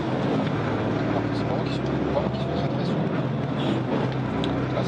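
A Volvo FH13 truck pulls away gently from a standstill, its engine holding a steady low drone mixed with broadband road and cabin noise, with a voice talking underneath.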